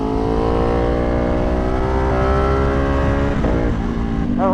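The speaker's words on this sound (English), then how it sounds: "I love the shifts on this bike now with the exhaust. They snap so loud." A tuned Ducati Panigale V2 with an aftermarket exhaust revs hard and loud up close, engine pitch climbing steadily and then snapping through sharp gear shifts, with no talking.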